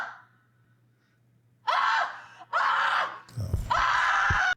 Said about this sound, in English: somebody's screaming